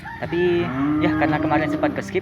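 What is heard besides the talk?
cows mooing in the background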